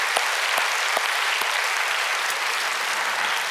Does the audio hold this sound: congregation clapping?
yes